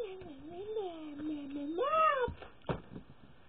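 A domestic cat meows in a long, wavering, drawn-out call that rises into a louder strained yowl near the middle, fairly close, followed by a short faint sound; no talk over it.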